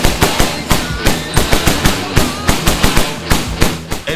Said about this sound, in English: I don't know if you guys know how loud gunshots are